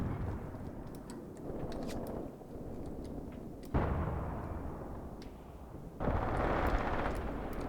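Tank gun fire in Graviteam Tactics during an attack on a T-50 tank, heavy booming blasts with rumbling decay over a low battlefield roar and scattered distant pops.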